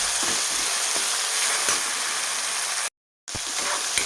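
Tomato masala for a brinjal curry sizzles steadily in a pan, a loud, even frying hiss close by. A brief cut to silence near the end is followed by more sizzling.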